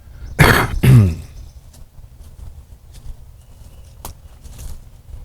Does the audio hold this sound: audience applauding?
no